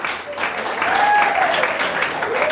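Audience clapping at an academic conference hall, a dense continuous patter of many hands with some voices and a faint tonal squeal mixed in.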